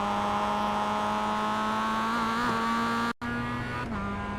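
A Mazda MX5 race car engine in iRacing at Circuit de Ledenon drones loud and close at a steady, slowly rising pitch under throttle, cutting out briefly for a gear change before resuming.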